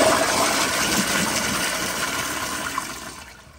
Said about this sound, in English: All right, here's a flush.